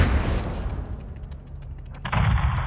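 Gunfire in Call of Duty: Modern Warfare II (2022), heavy booming shots with rumbling low-end decay, fading briefly before a fresh loud burst near the end.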